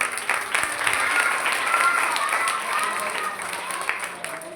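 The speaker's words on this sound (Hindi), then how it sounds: "जोरदार ताली उनके लिए।" Loud, steady applause from an audience at a Shrimad Bhagavat Katha religious gathering in Panchkula, a dense wash of clapping sustained throughout with faint voices beneath.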